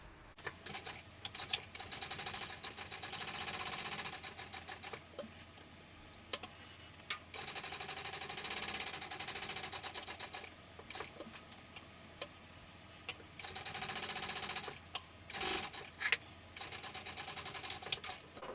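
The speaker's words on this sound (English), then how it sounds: "So now we're going to go ahead and top stitch." A sewing machine top stitches the sewn edges of a sling, running in several steady rapid bursts separated by short pauses, close and clear with no talk.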